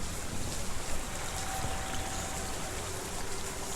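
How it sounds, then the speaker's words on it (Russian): A waterfall in the video game Hellblade: Senua's Sacrifice gives a steady, dense roar of rushing water that holds evenly from start to finish, loud and close, with no voices. "Но водопад какой-то странный."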